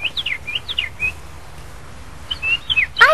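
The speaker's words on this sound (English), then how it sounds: "It's a bird. It's a mockingbird." A mockingbird sings from high in a tree, giving bright whistled chirps in two short bursts with a pause between, then a final rising call.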